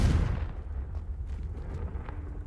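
Confringo blasting spell explosion in Hogwarts Legacy, a sharp heavy boom at the start that rolls into a decaying low rumble and scattered crackles, close and loud with no talking.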